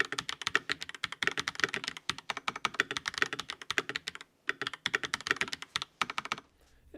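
Someone types a sentence on a Redragon K656 Garen Pro mechanical gaming keyboard: rapid, close, crisp keystroke clacks in bursts with brief pauses, then it stops.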